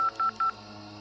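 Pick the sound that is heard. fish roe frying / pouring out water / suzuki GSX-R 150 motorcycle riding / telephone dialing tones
telephone dialing tones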